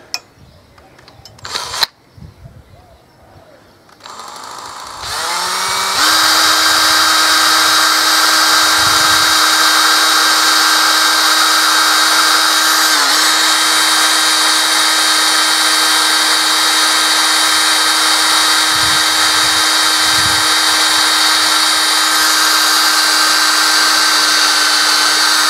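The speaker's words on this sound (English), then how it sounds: "use a very fine drill bit and drill straight through" A loud, continuous high-pitched whine of a power drill with a fine cobalt bit drilling through a metal spear head for about twenty seconds, after a few brief clatters and a spin-up.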